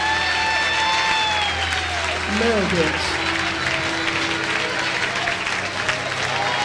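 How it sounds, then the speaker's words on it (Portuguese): A church congregation claps loudly and continuously as a dense wash of applause, with a voice speaking briefly over it and music tones sustained underneath. "vocês aplaudam Jesus bem forte."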